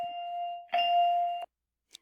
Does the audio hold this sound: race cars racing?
no